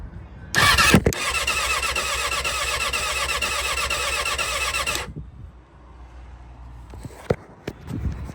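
A vintage project vehicle's engine cranks over on a 12-volt starter for a compression check, a loud rhythmic chugging of about four and a half seconds that stops abruptly, then quiet shuffling and a few knocks.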